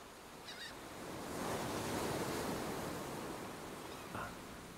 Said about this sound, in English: Ah, sound of the waves.